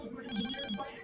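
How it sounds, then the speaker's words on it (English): A phone ringtone rings at low level and continuously for about a second, with a voice partly overlapping it. "Phone's ringing."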